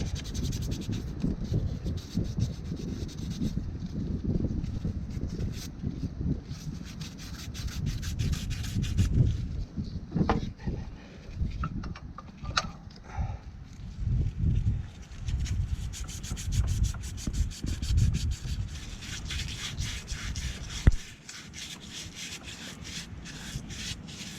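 A hay bob part is hand-sanded to remove corrosion, giving continuous close rubbing and scraping strokes that keep an uneven rhythm throughout.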